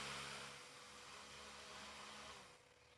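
A small electric fan runs at high speed, a steady airy whoosh with a faint motor hum close by, easing down slightly near the end with no talk.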